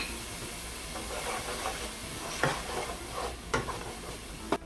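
Garlic sautéing in a pan for a three-meat chili, a steady soft sizzle with occasional sharp scraping clicks of a spoon stirring, close and moderately quiet.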